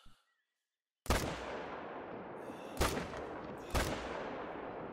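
Three sharp rifle-style gunshots in the hunting video game theHunter: Call of the Wild ring out one after another, each followed by a long rolling echo that fades, after a brief moment of silence.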